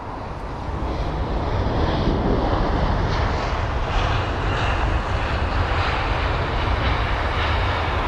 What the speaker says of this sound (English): the Eurowings A319 from Hamburg